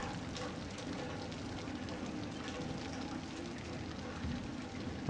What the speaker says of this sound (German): Nee, ich glaube, es regnet